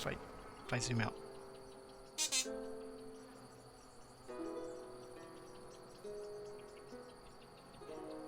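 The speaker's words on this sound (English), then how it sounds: "we can hear a bird in the background and some crickets and stuff" Video game ambience of crickets chirping steadily with a bird calling in short bursts, quiet and in the background, while a person speaks briefly over it.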